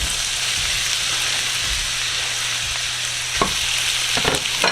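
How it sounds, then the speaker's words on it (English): Chopped apples fry in melted ghee with a steady, close sizzle, joined near the end by a few scraping stirs and clatters of the utensil against the pan. "you're just going to put all the apples you chopped down into this melted ghee"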